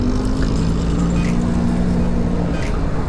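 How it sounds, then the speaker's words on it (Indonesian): A Yamaha R15 V2 motorcycle engine runs rough after two engine rebuilds with a new block, piston, cam chain and seals, giving a steady, loud, close, harsh drone with a low hum and no talk. "Ini udah lumayan kasar mesinnya nih cuy."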